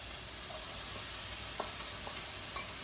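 Vegetables sautéing in a pan for chili give off a soft, steady sizzling hiss, with a few faint stirring clicks and no voices.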